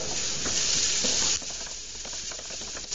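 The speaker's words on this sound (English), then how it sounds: "I'm putting the garlic in here." Garlic hitting a hot pan, a loud hissing sizzle that swells at once and then settles to a softer, steady frying crackle.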